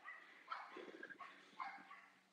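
A dog gives faint, distant barks and yips in a few short bursts, heard quietly with no one talking.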